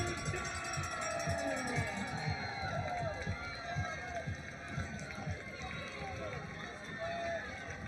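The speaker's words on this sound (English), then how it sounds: "Players on the sideline riling up the crowd again as our 12th man." A women's football crowd in Tampa roars steadily as sideline players whip it up. The cheering is distant and fairly faint, and a commentator talks over it.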